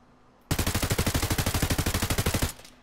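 APS automatic pistol in Escape From Tarkov fires one unbroken full-auto burst of about twenty rapid, loud, evenly spaced shots lasting roughly two seconds, with no voices over it.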